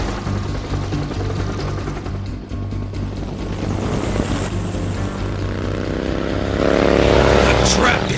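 A helicopter drones steadily and loudly throughout with a constant rotor and engine rumble, swelling slightly louder toward the end.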